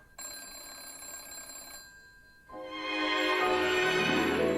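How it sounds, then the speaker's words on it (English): A telephone ringing close by, two loud bursts of bright, metallic bell trills separated by a brief quieter gap, the second ring longer and fuller, with no talking. "Your phone's ringing. Let it ring"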